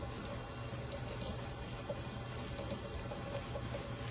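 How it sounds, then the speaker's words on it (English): Tap water running on low over a Dash mini waffle maker being washed, with a faint steady trickle and light splashing in the sink. A low hum runs underneath. "put the water on low"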